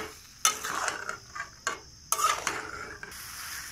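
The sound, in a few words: prawns being stirred in pan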